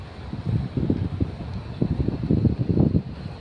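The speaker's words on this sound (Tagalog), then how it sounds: "Dito may mahangin siya, medyo malamig na rin ang hangin." Gusty wind buffeting the microphone in uneven low rumbling pulses, rising and falling over a few seconds with no one speaking.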